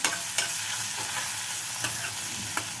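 Tomato and capsicum pieces with salt sizzling in a pan for a potato capsicum curry, a steady close hiss of frying broken by occasional stirring scrapes.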